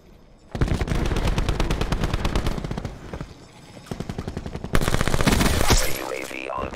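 A VMP submachine gun in Black Ops 4 fires several rapid full-auto bursts, loud and close, separated by brief pauses, with a final longer burst.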